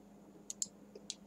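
A computer mouse clicked at a desk, a handful of sharp, faint clicks close by in a quiet room, with no talk.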